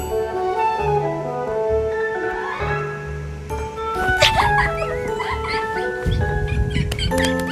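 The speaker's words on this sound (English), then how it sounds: "Stuck with a cute little crazy dog." A small, excitable dog yips and barks in short bursts with whimpering whines. Other sounds are mixed in alongside the barking.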